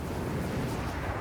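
A submarine attacks in Civilization VI with a short, dense, rumbling explosive blast that fills the whole brief moment and has no talking over it.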